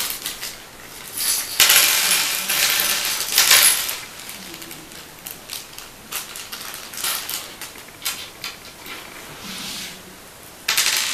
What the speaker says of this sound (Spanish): tomamos el paquete de tornillos y arandelas